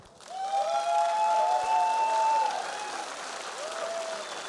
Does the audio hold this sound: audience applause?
yes